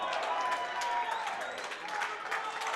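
A wrestling crowd at a Warrior Wrestling event claps and cheers for Will Ospreay, dense steady applause filling the whole stretch at close, even loudness.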